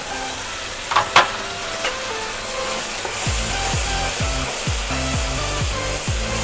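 Tomato puree goes into an onion masala frying in a pressure cooker for dried-pea chhole. A few clicks and knocks lead into a steady sizzle, overlaid with a regular, rhythmic scraping of stirring.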